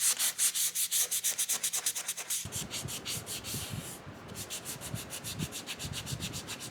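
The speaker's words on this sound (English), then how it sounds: "I have this one and this one to sand still, the two biggest pieces." Sandpaper rubbed over pieces of wood in a garage workshop, first as quick, regular back-and-forth strokes, then as a rougher, more uneven scraping, close and fairly loud with no voices.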